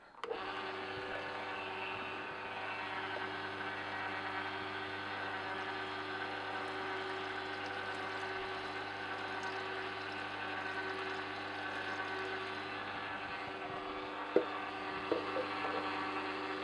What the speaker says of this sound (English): all I'll do is turn on the unit, pour the water in here, let it run for a bit, drain it